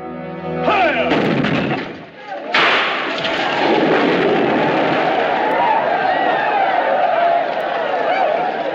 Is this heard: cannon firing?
yes